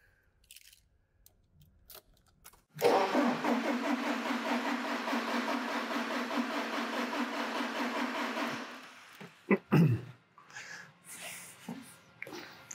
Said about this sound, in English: it's cranking but not starting